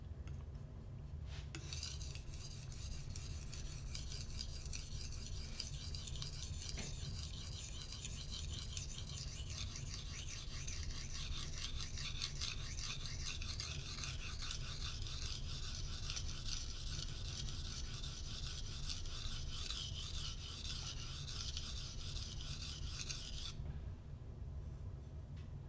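Knife blade drawn in repeated tip-to-heel passes over a very hard, dense Arkansas sharpening stone, a faint, steady high rasp that runs continuously for over twenty seconds before stopping.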